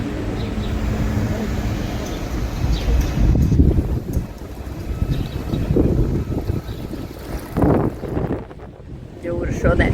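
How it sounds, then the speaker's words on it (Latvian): Sea surf and gusting wind at the Turkish coast in spring, a continuous rumbling wash with buffeting wind noise on the microphone, swelling and easing over several seconds, with a faint voice briefly audible. "Jūra šodien šalkojās,"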